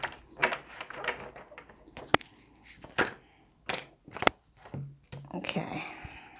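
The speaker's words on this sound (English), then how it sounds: "Let's give it a shuffle though" Tarot cards being shuffled, with a series of crisp riffling snaps and clicks in irregular bursts, close and moderately loud, with a voice speaking briefly.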